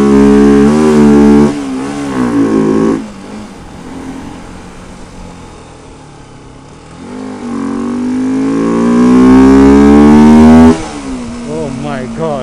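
A Pulsar 200 RS motorcycle fitted with a K&N air filter revs loud and close, its engine note swelling, dropping back to a lower idle, then climbing again into a sustained aggressive drone.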